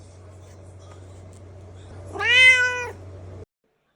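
A Bengal cat lets out a single clear, drawn-out meow, close and fairly loud, rising then falling over about a second against a faint low hum.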